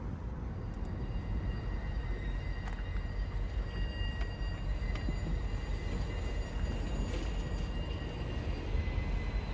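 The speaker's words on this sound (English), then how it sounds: "our work extra is shoving down the valley track towards FX interlocking" MBTA commuter rail work train shoving down a valley track on a cold morning, a continuous low rumble and rattle of wheels on rail, steady and fairly loud, with faint high squeals.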